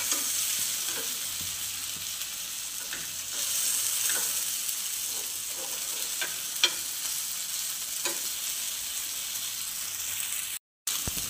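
Fish fillets frying under a lid in a pan give a steady, moderately loud hiss with scattered small pops, running unbroken to the end.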